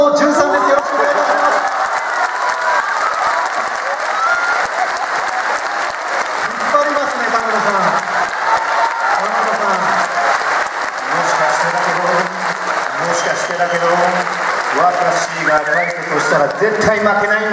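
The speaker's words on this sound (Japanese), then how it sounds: "今の拍手どうですか" An audience applauds loudly and continuously for guest Tamano Jun at a Sagan Tosu football team presentation event, a dense, sustained clapping mixed with some cheering, while people talk over it.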